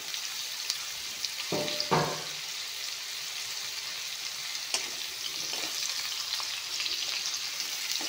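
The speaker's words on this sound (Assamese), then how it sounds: "অমিতাখিনি ভালকৈ ভাজি ল'ম।" Raw papaya pieces fry in hot refined oil, a soft, steady sizzle broken early by two short clattering knocks of a utensil against the pan.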